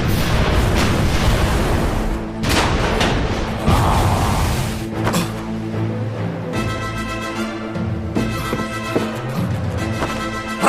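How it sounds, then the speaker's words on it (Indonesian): Cannon fire in an animated battle scene booms out in loud, heavy bursts, with crashing impacts layered over a dense, continuous clamor and a musical score rising in the latter half. "Meriam, tembak."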